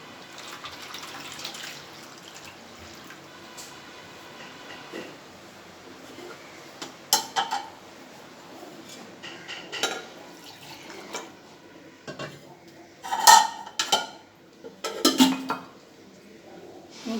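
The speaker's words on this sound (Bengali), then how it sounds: "1 কাপ পরিমাণ মতো দুধ দিয়ে দেবো।" Milk poured into beaten eggs in a bowl in a home kitchen: soft, quiet pouring and dripping with scattered clinks of a utensil against the bowl, intermittent and close.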